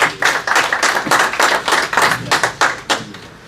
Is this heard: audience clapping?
yes